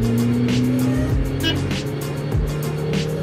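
A carbureted 2004 Suzuki Karimun pulls in second gear with a steady, close engine drone and whining harmonics while someone talks faintly in the cabin.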